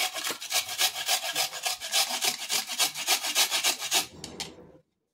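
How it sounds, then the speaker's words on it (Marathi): Coconut is scraped on a fine hand grater in a home kitchen for coconut rice, a close, quick rhythm of about twenty rasping strokes that stops abruptly. "आता आपण हे बारीक किसणीने याला किसून घ्यायचं आहे।"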